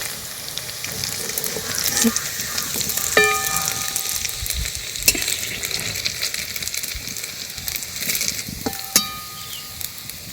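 Small semolina chusi pitha strands fry lightly in oil with a busy, bubbling sizzle, punctuated by occasional sharp metallic clinks and scrapes of a utensil against the pan.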